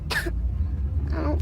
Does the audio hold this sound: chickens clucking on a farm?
no